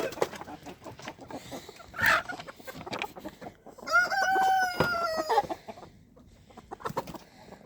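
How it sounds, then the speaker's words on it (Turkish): Chickens cluck close by while a rooster crows loudly once midway, with scattered softer clucks and shuffling around it. "Tavuklar da arkadaşlar yem istiyorlar."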